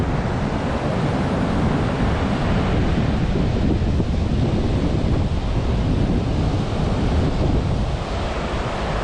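Heavy ocean waves crash against rocks off Koh Lanta and rumble nearby in a constant, loud wash, with wind buffeting underneath.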